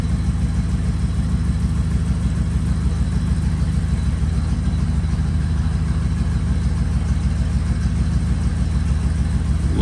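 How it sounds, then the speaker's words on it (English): An old Ford Falcon Club Wagon engine, first started after sitting for 10 years, idles steadily and close by, a low, even rumble with a regular pulsing beat that carries on without a break. "Listen to that old engine purr though."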